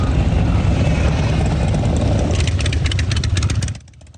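Motorcycles rumble steadily at the 83rd annual Sturgis motorcycle rally in Sturgis, South Dakota, a loud continuous engine drone that drops off sharply near the end.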